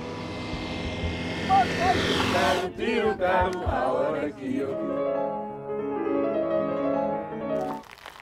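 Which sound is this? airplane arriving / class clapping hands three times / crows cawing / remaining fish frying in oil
airplane arriving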